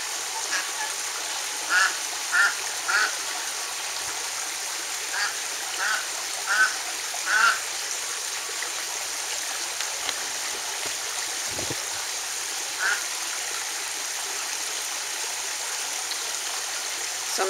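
Wild mallard ducks quack in short bursts of two or three calls, moderately close, over a constant rush of flowing stream water.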